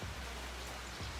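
Rain falls outside as a soft, steady hiss of drops on surfaces, fairly faint and continuous with a low rumble underneath and no voices.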